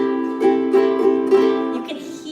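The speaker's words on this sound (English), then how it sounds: "You can hear the notes fanning out" A ukulele sounded with slow down strums, its strings ringing out one after another in a sustained, close chord that lingers and fades gently, with no talking over it.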